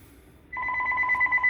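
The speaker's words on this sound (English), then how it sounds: "And there's the phone." A telephone starts ringing mid-clip with a steady, warbling electronic tone that pulses rapidly, moderately loud against a quiet indoor background.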